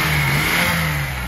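Loud engine of a 1980 Datsun 280ZX coupe revving up close, a sustained throaty roar with no voices.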